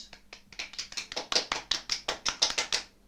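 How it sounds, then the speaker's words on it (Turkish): A quick burst of rhythmic clapping from the game Dictators: No Peace Countryballs, about a dozen sharp, evenly spaced claps that grow louder, with no voices. "Arkadan alkış geldi."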